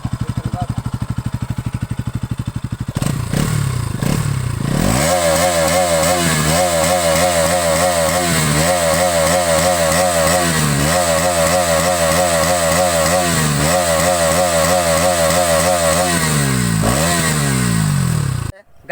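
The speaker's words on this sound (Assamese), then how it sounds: "বাইকখনৰ ফুল RPM চাউণ্ডটো শুনি লওক আপোনালোকৰ NS200 BS6" A Bajaj Pulsar NS200 BS6 motorcycle engine revved hard to full RPM, loud and close, in repeated rhythmic climbs and drops that hold a steady high pitch, then falls away at the end.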